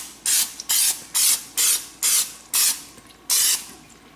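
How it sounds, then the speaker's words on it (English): Non-stick cooking spray misted into a bowl for rising bread dough: seven short, even hissing bursts at close range with brief pauses between them and no talk. "spray it with non-stick spray"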